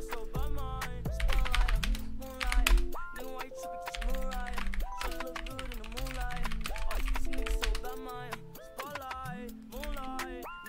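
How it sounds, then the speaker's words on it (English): Quick, irregular keystrokes clatter on a computer keyboard in close, dense bursts, mixed with strong tonal, voice-like sounds playing over the typing throughout. "I'm typing a prompt for chat to get for the result"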